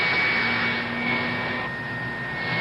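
A Remington hair dryer blows with a steady, close whooshing roar and a faint high whine running through it, continuous throughout with no talk.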